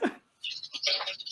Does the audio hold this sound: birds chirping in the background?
yes